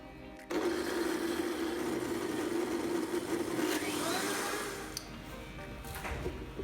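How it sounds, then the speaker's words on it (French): After a short quiet start, a blender whirs into an oily mixture to make an emulsion, a steady motor buzz that holds, then eases slightly near the end. "Je vais commencer par blender donc tout ce mélange pour faire une émulsion."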